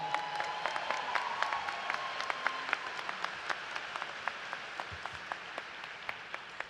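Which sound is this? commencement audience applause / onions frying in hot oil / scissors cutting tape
commencement audience applause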